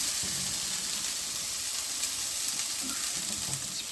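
Krill fry in a hot pan with a dense, steady sizzle and crackle, close and loud throughout, with faint stirring movements under the hiss and no talking.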